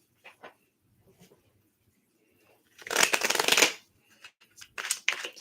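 Tarot Apocalypse deck being shuffled, a dense riffling burst of cards for under a second, followed by a few lighter card taps and flicks, close and otherwise quiet.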